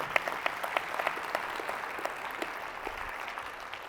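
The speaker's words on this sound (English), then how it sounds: "If one claps, we all clap." Steady audience clapping at a keynote talk, a dense patter of many hands at moderate distance, fairly quiet and uninterrupted, with no one speaking.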